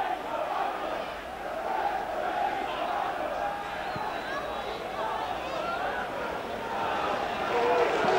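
A large football crowd at Halifax Town v Burnley, including about 4,000 travelling Burnley supporters, baying and roaring at the referee, a sustained distant mass of voices rising and falling with shouts, swelling louder toward the end.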